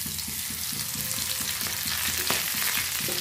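Spinach leaves coated in gram flour batter frying in hot oil give a dense, continuous crackling sizzle with a rhythmic bubbling underneath and occasional sharper pops.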